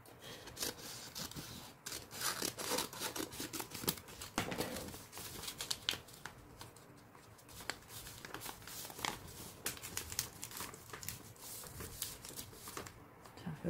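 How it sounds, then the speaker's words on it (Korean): Scissors cut through kraft wrapping paper for gift wrapping, a continuous close rasping and crinkling with short snips and paper rustle throughout. "솔직히 제가 가위질을, 아이고야. 가위질을 잘 못합니다."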